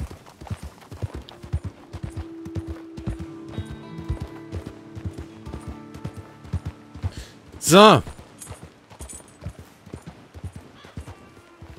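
Horse hooves clip-clop at a steady riding pace in Red Dead Redemption 2, close and rhythmic, with a brief neigh partway through and a voice speaking over the hoofbeats.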